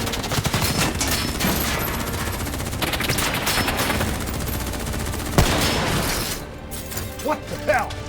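Call of Duty: Black Ops 3 gunfire: loud, sustained bursts of automatic weapon fire with clattering mechanical sounds, a sharp impact partway through, then quieter scattered shots as voices speak near the end.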